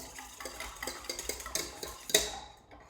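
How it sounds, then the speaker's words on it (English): Whisk scraping and clinking against a bowl to lift settled honey off the bottom for a cold-process genoise, a quick series of light rhythmic taps and strokes with one sharper metallic clink near the end, heard close and alone. "I'm going to make sure that that honey is off the bottom. So I'm going to whisk it a little bit."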